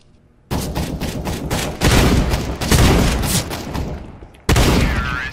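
Loud bursts of shotgun fire in a video game, rapid overlapping blasts in several volleys close up, ending in one sharp final shot.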